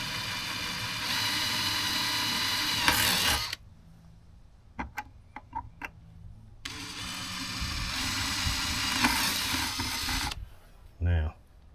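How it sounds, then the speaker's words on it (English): Power drill boring slowly through a boat's hull or deck with a drill bit, two long steady whining bursts of several seconds each, separated by a quieter pause with a few short clicks and knocks. "I'm going to go in with my drill bit"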